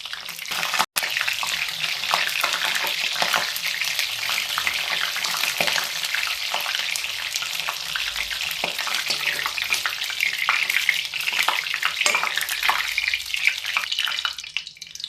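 Eggplant with garlic and onion frying in hot oil in a home kitchen pan, giving a steady, fairly loud crackling sizzle that runs unbroken throughout with no talk.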